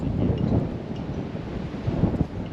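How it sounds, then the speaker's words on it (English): Steady wind buffets the microphone on the Everest Base Camp trek above Hillary Bridge, a continuous low rumble with gusty swells and no voices. "It's quite windy."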